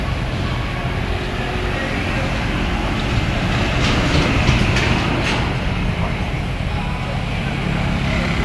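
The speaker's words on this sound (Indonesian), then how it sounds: "Ya kereta api mau berangkat lagi." A train pulls away on a railway line, a steady low rumble of rolling stock with faint high squeals from the wheels, rising slightly midway, heard from close by with occasional voices in the background.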